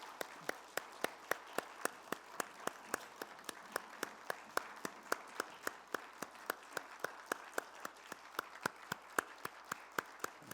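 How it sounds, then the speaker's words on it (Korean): A church congregation at a Holy Week special early-morning prayer service claps together in a steady, even beat, with sharp claps repeating about three times a second. The clapping is faint and distant, and almost no talk is heard. "하나님께 영광의 박수 올려드립니다."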